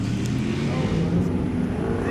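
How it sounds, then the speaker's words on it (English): A Ram Rampage pulls out of a Cars and Coffee meet with a steady low engine rumble close by, while people chat in the background. "Got the Rampage Ram rolling out."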